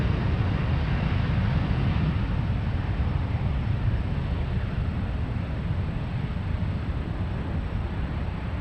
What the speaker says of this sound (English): And there goes the A321neo out of here.